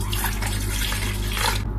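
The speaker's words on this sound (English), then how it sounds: "I'm also going to go in with half a cup of water" Half a cup of water poured into a silver bowl with milk for pancake batter, a close continuous splashing gush that cuts off abruptly at the end, with no talk.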